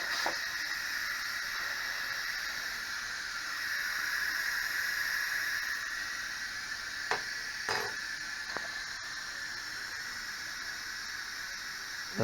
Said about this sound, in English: we'll let the steam escape